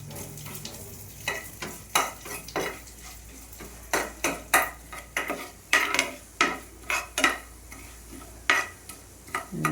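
Coriander seeds and cumin frying in well-heated oil, a low sizzle broken by repeated close scraping strokes of a spoon stirring against the pan in a loose, uneven rhythm.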